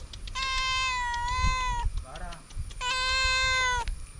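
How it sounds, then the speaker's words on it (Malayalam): A kitten gives two long, drawn-out meows, separated by a brief softer squeak, close to the microphone against quiet background rustle. "ഒരു പൂച്ചക്കുട്ടൻ ഇതിലൂടെ പാഞ്ഞടക്കുന്നുണ്ട് കേട്ടോ"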